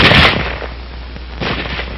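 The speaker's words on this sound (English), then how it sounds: "It can fire only as fast as a man can open and close the bolt." A single loud rifle shot cracks at the start, followed by a duller second report, from a bolt-action rifle in a 1946 small arms training film.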